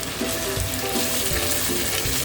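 Chopped onions and green chillies frying in hot oil, giving off a loud, dense, continuous sizzle close up with no talking over it.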